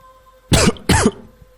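A woman gives two sharp coughs in quick succession, close and loud, followed by quiet.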